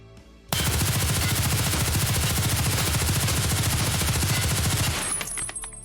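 An HK rifle in Escape from Tarkov fires one long, loud, unbroken full-auto burst of rapid shots that lasts about four and a half seconds and then cuts off abruptly, leaving a short ringing tail.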